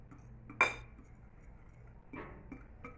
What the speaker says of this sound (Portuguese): Vamos dar uma misturadinha.